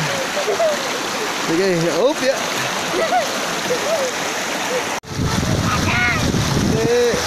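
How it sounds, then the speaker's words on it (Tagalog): Water sloshes and splashes steadily as people wade through a cold stream near a waterfall, with a few short remarks spoken over the continuous rushing flow. "naglalakad kami sa tubig ngayon"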